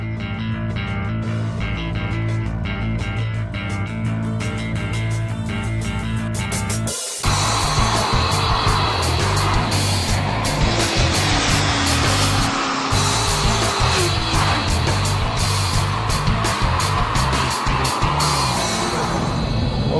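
A Chevrolet Corvette Grand Sport is driven hard on open roads, its engine droning loudly and steadily, then snapping into a harsher, busier roar with rapid pulses after a sudden brief break.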